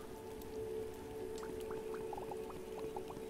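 Game rain falls in a constant soft hiss, with scattered brighter droplet plinks dotting the steady wash throughout, and nobody speaking.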